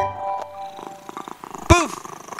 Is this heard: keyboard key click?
no